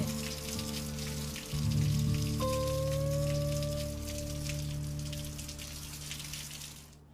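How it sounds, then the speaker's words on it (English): Rain falls outdoors in Houston, a steady patter and hiss of drops with a few sustained tones running beneath it; no one speaks. "I just ran outside, stuck my feet out, and just recorded the rain"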